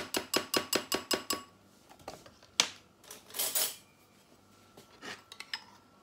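A spoon clinks repeatedly against a bowl of homemade keto mayonnaise, a fast run of about seven bright taps followed by scattered scrapes and knocks, close and clear with no talking.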